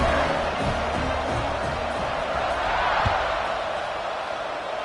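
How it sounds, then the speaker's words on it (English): A football stadium crowd buzzes after a score, forming a broad, steady roar of many voices with scattered thuds and faint cheering underneath. "this crowd is buzzing after that last score"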